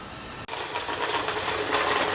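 A wet and dry robot vacuum cleaner runs with a steady whirring hum and rattling clicks as it moves over the floor, picking up debris such as tissue bits and rice grains; no voices are heard.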